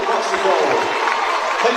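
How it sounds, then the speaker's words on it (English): A crowd in a gym roars and murmurs steadily at a high school Class 2 boys' basketball quarterfinal, a dense, continuous wash of cheering voices with no break. "Crowd starting to get into it"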